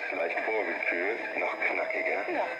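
A 21 MHz transmitter board's signal comes through a radio receiver as continuous band-limited voice-like audio, bright and slightly tinny, with no hiss gaps across the short stretch.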